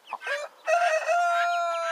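A domestic turkey hen in a stable gives a couple of short clucks followed by a longer drawn-out squawking call, close and clear with no talk.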